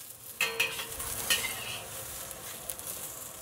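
Eggplant frying in oil in a large wok, a quiet continuous sizzle with a few sharp scrapes and clinks of a spatula stirring early on.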